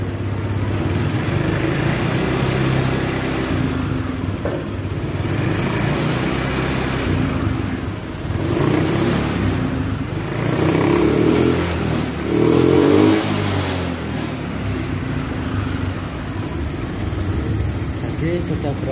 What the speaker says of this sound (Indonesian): kita coba bunyikan. Coba kita gas ya.